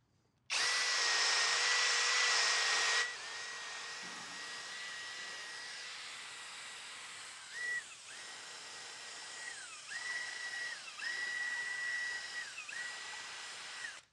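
A power drill spins a polishing cone against a metal wheel rim, a steady high whine that starts loud and close, then settles lower and grinds on with repeated pitch dips as the cone presses the metal.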